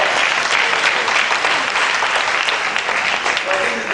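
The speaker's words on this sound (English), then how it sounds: "I think it deserves a higher applause." Loud, dense applause from a seminar audience, a steady roar of many hands clapping with crowd voices mixed in throughout.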